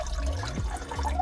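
Apple cider vinegar poured into a container without a measuring spoon, a soft, close, continuous liquid trickle lasting about a second.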